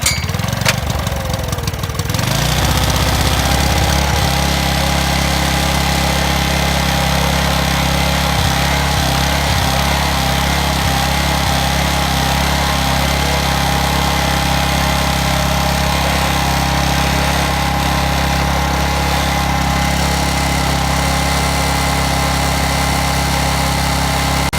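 A Yanmar YSG750 generator engine runs steadily after starting, a loud, close, constant mechanical drone with a hum throughout and a brief rougher moment at the very start.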